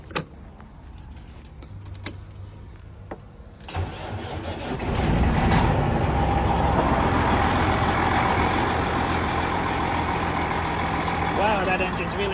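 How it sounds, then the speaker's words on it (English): A freshly rebuilt 12.7-litre semi truck engine cranks over and fires up, then settles into a loud, steady diesel rumble that fills the rest of the clip at close range. "Wow, that engine's really noisy compared to what I remember it being."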